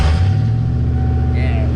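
A truck with a loud exhaust rumbles close by, a heavy, steady low drone with no break across the short stretch.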